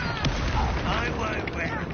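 A Confringo fire explosion spell bursts in Hogwarts Legacy, a brief, loud booming blast with rumbling, crackling debris that fills the short moment.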